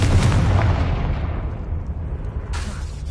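The Confringo blasting spell in Hogwarts Legacy explodes with a loud, deep boom that rumbles and fades, followed by a sharper second burst near the end.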